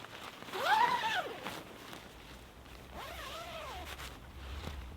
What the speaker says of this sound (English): The zipper is nice and smooth.